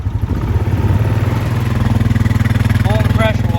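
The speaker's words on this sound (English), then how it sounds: "Full pressure washer." A gas pressure washer, its wheel holed, runs at full pressure with a steady, close, loud engine drone throughout, plus a few faint high whistles near the end.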